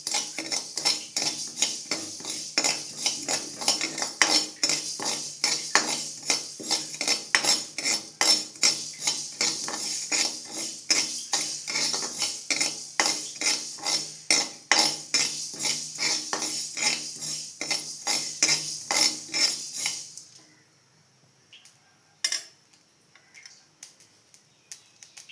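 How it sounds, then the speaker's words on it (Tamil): Fenugreek seeds roasting in a pan on low heat are stirred with a metal spoon, making rapid rhythmic scraping and clinking against the pan for about twenty seconds, followed by a few isolated taps. "சிம்மில் வச்சு லேசாக வறுத்துக்கிடலாம்."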